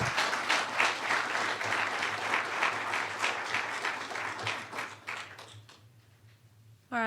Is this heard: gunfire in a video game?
no